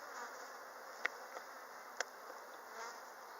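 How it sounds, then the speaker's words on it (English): Bees hum steadily around a beehive in an apiary, a close, continuous insect drone with a couple of sharp clicks standing out briefly over the buzz. "Get out from under there, bees."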